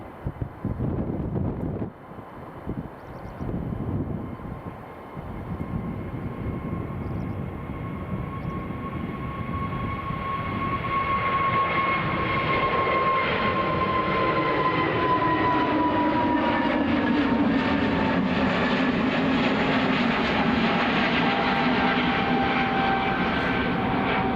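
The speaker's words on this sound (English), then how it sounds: "So, EasyJet just departing from Charlie." An EasyJet airliner departs, its jet engines building from a distant whine into a loud, sustained roar that swells and holds as the aircraft climbs away.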